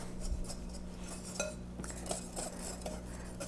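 A whisk stirs flour, sugar, baking soda and salt together in a bowl for pancakes, giving a steady run of soft scraping and light clinks against the bowl, close and continuous without talk.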